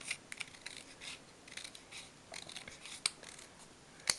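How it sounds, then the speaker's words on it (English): Scissors snip paper into strips along drawn lines, a run of quiet, close crisp cuts and rustles with a couple of sharper metallic clicks. "you just cut them out into strips according to the line"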